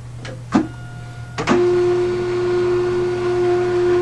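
TSC label printer feeding tags during sensor calibration: a few short mechanical clicks and whirs, then a steady, fairly loud motor whine holding a sustained tone to the end.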